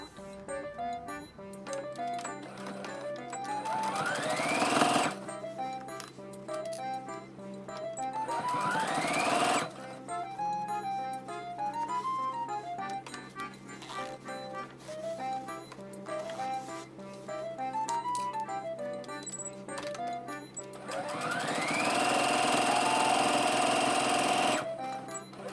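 Sewing machine stitching a zipper onto a Liberty canvas pouch with lining, running in steady bursts of rapid mechanical stitching with short pauses, close and clear, with no talking.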